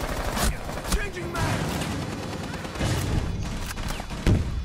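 Bursts of gunfire from the video game Rainbow Six Siege come in rapid volleys over a dense game soundscape, with a few louder sharp shots standing out.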